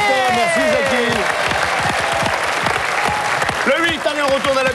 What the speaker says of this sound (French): quelques applaudissements pour Jackie et Santa